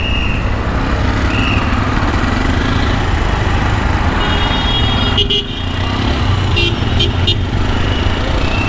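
Dense, loud road traffic with motorbikes weaving through, engines droning continuously while several short horn toots sound near the end.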